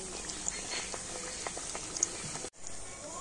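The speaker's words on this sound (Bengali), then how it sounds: "খুব তাড়াতাড়ি কিন্তু এই নিমকিগুলো ভাজা হয়ে যায়" Nimki pastries deep-frying in oil make a faint, steady bubbling with small pops, briefly cutting out near the end before resuming.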